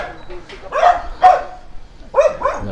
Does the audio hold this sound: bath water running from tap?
no